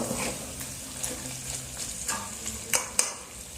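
Chicken frying with turmeric and chili in a pan gives a low steady sizzle, broken by several sharp scraping strokes of a stirring utensil, the loudest near the end.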